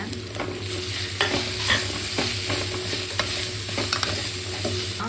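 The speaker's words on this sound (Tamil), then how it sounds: "நல்லா கிளறி விடுங்க" Tomato rice masala with fresh mint and coriander stirred in a hot pan, a steady scraping stir over a soft continuous sizzle, close and alone with no voices.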